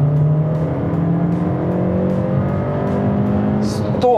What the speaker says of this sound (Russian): Как раз я вторую выкручиваю в 100.